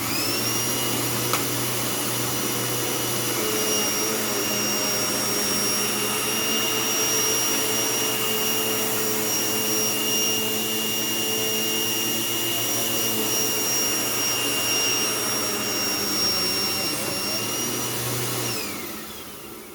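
Eureka TheBoss Power Plus 4703 upright vacuum cleaner running continuously for nearly twenty seconds, a loud steady motor roar with a high whine on top, up close, then winding down at the end.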